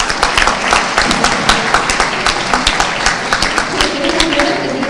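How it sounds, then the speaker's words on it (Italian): Audience at an award ceremony for a poster design competition applauds in a steady, moderately loud patter of many hands, continuing for several seconds with faint voices mixed in beneath the clapping. "Comunque anche a lei un applauso"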